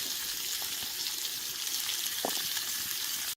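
Venison steak sizzles over a campfire outdoors, a steady close crackling hiss with faint pops, continuous and alone.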